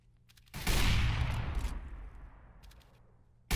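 Gunfire in CS:GO: a loud burst of shots begins about half a second in, with a long reverberant tail fading over several seconds, and another sharp shot at the very end.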